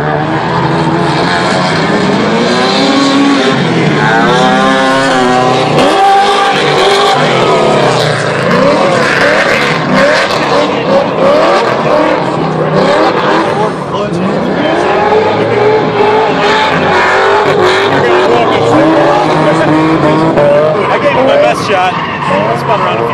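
A race car engine roaring loudly with rising and falling revs as it accelerates and spins through a corner, tires squealing, a dense continuous engine note sustained throughout, with someone talking over it.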